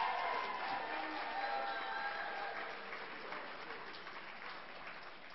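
Crowd clapping at a mayoral debate in a community college hall, a dense patter of applause with a few cheers that slowly tapers, with voices faintly audible underneath.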